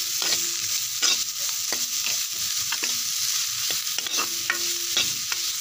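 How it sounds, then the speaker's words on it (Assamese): Egg fried rice ingredients, seasoned with salt and turmeric, sizzle steadily in a hot pan while a spatula scrapes and stirs in repeated, regular strokes, close and without talk. "অলপ ভাজি ল'ম"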